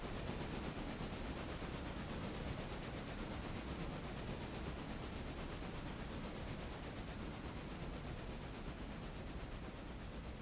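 A big Santa Fe train runs in a railroad simulator, heard as a steady, faint, hissing rumble that does not change.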